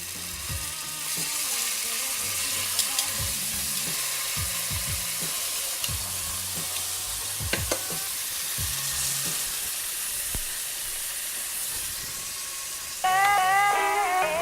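Black rockfish fillets sizzle in a hot pan, a steady close frying hiss with scattered pops and scrapes, joined near the end by music.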